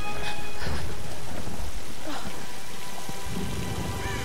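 A thunderstorm in Tomb Raider (2013): steady heavy rain on surfaces with rumbling thunder, loud and continuous throughout, with no speech.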